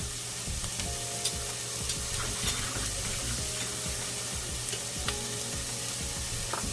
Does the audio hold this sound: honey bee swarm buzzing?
no